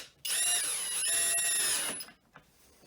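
A Skil 12V brushless drill runs at high speed driving a hex fastener, a sharp high-pitched whine lasting under two seconds before cutting off abruptly, followed by faint clicks.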